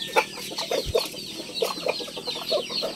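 Chickens cluck and call repeatedly at a backyard gamefowl farm, several birds fairly close, with short overlapping clucks in an irregular rhythm and no talking.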